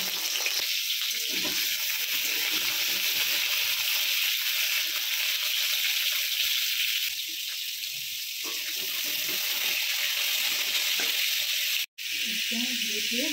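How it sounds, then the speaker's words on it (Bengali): Ridge gourd slices frying in mustard oil, a steady close hiss and sizzle running throughout with small stirring movements and a brief dropout near the end. "প্রথমে আমি ঝিঙেগুলো ভেজে নিচ্ছি।"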